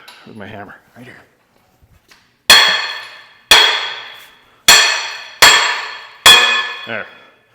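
A few quiet words, then five sharp metallic hammer blows on a differential bearing race at a steady pace, each ringing briefly before the next strike.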